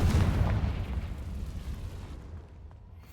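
A Confringo spell blast in Hogwarts Legacy booms with a heavy low rumble at the start, then rolls away into a fading, hissing tail.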